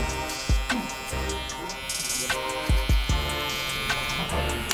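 Electric clippers buzz steadily close up while taking a client's hair fully down for a fade haircut, with several dull knocks and taps over the hum.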